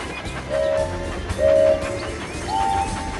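A Thomas the Tank Engine toy train runs along its track in a mobile video game, with three short tonal whistle blasts over a steady rumble of rolling wheels and background game music.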